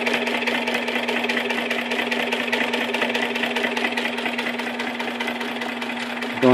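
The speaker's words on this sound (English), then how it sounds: "So as you can see, it's winding the bobbin" An industrial sewing machine runs steadily while winding its bobbin, a fast even mechanical whir with rapid clatter and a constant hum, close and loud, ending in a sharper thud.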